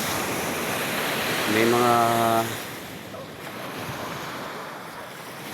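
Ocean waves wash steadily onto a seashore with gusting wind across the microphone, a continuous broad roar; a voice speaks briefly in the middle before the surf continues alone.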